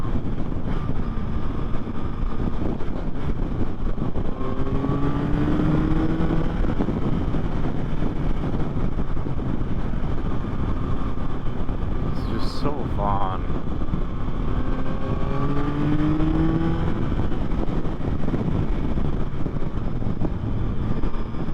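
A 2024 Yamaha MT-09 motorcycle on the road, its engine droning steadily beneath heavy wind rush on the rider's helmet, with a couple of rising pitch sweeps as it accelerates through the gears.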